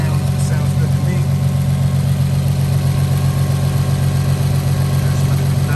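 Infiniti M35h hybrid engine running, a loud, steady low rumble with a constant throb, close and unbroken for the whole stretch.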